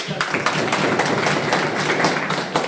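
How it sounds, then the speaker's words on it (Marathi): Strong applause from a meeting crowd honoring Sapkal saheb, a dense steady clatter of many hands clapping, close and loud throughout with no pauses. "आता सपकाळ साहेबांसाठी जोरदार टाळ्या वाजवून"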